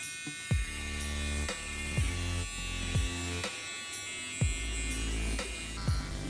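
Electric beard clipper running steadily at close range, with a constant buzzing drone broken by several short louder bursts as it trims through beard hair; no talking.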